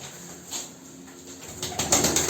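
Soft tumbler pigeon cooing close by, with a flutter of wings and rustling toward the end; no talking.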